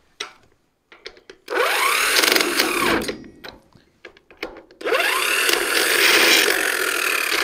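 A power wrench spins trailer wheel nuts back onto their studs in loud whirring, ratcheting bursts, two long runs separated by short clicks and pauses, close up.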